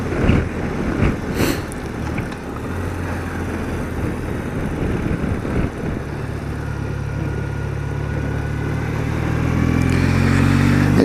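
An old motorbike engine drones steadily while riding through gusting, cyclonic wind. Low engine tones hum under a rushing wind noise that swells and buffets, and the engine note rises slightly toward the end.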